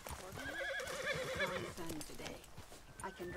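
Horse in Red Dead Redemption 2 letting out a loud wavering whinny while hooves clip-clop steadily underneath, followed by a snort, with a voice talking over the game sounds.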